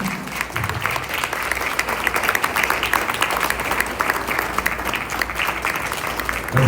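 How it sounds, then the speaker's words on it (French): An audience applauds a woman president, Sandra Bozzi, at a foundation event on women, creation and production, steady dense clapping filling the room without a break. "je vous prie d'applaudir la présidente Sandra Bozzi."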